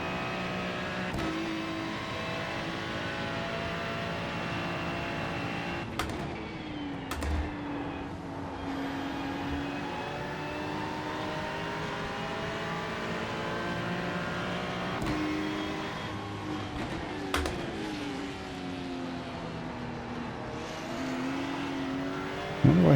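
A race car engine at Bathurst in iRacing drones steadily close by for a long stretch, pitch climbing and dropping through repeated gear shifts and corners, with occasional clicks and bumps.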